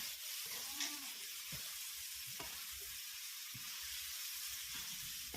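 Meatballs stir-fried with basil leaves in a pan give off a steady, quiet sizzle and hiss, with faint scrapes of the spatula and no talking.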